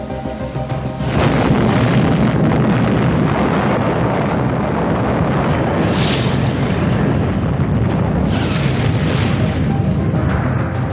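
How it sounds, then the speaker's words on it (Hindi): The 1961 Soviet Tsar Bomba nuclear test explosion produces a loud, sustained, roaring rumble with wind-like noise that swells in after a quiet start and continues unbroken. "30 अक्टूबर 1961 को रूस ने सार एटम बम का टेस्ट किया था।"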